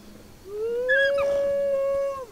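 A single drawn-out dog howl, a ghost dog's call, rises, holds a long steady tone and then falls away, close and clear over a quiet background.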